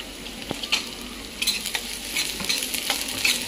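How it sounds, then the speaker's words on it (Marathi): Moong dal roasting in a pan with chopped onion, close sizzling punctuated by several sharp stirring scrapes and clicks of a spoon, no voices. "नंतर आपण मुगाची डाळ टाकली 1 चमचा, ती पण चांगली मिक्स करून घ्यायची"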